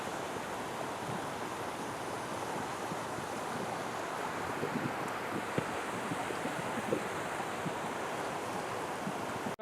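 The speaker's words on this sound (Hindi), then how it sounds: "फिर दरिया का नज़ारा कुमराड में और पानी की आवाज़ें सुने" Rushing water roars continuously, a broad steady wash of a river tumbling over rocks in Kumrat Valley, Pakistan, with gusts of wind buffeting the microphone.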